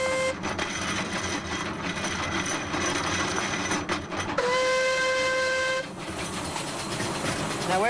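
A narrow gauge steam locomotive whistle blows in long, steady blasts, loud and close, over the hiss and rumble of the engine.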